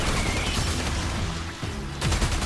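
Rapid, dense gunfire in the sci-fi shooter Warframe, a loud continuous fusillade of overlapping shots with a brief dip before another burst, no voices.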